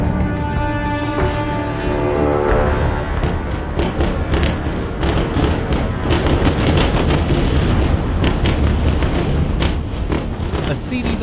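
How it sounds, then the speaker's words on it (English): A dense, continuous roar of heavy explosions from bunker-busting bombs in airstrikes on southern Beirut, with rumbling booms, loud and sustained, and layered blasts blending into one another. "A series of powerful explosions caused by heavy bunker-busting bombs brought down at least 6 residential towers."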